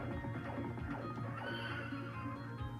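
A horse neighs in a 1991 arcade video game, a short whinny heard within dense, continuous game music and effects.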